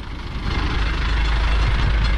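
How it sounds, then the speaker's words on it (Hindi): A heavy vehicle's engine rumbles at a low, steady idle as it draws nearer on a gas field road near Quetta, growing slightly louder with no voices. "सामने हूंदा की गाड़ी आ रही है"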